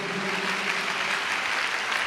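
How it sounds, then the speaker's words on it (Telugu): A church congregation clapping hands in praise at a Rajahmundry pastor's prayer meeting, a dense, sustained burst of many hands applauding together in a large room. "చప్పట్లు కొడుతూ దేవునికి"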